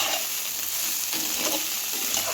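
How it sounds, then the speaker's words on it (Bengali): Cauliflower pieces frying in a pan, a steady close sizzle and crackle of hot oil with a few stirring scrapes throughout. "ফুলকপিটাকে লাল লাল করে ভেজে নিচ্ছি"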